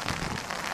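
Rain falling during an outdoor football game, a steady broadband hiss of drops on surfaces with no clear voices, brief and even.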